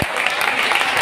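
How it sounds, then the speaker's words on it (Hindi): Steady audience applause at a World No Tobacco Day celebration event, a dense wash of clapping at close range, continuous and loud for about a second. "तालियां बजाइए"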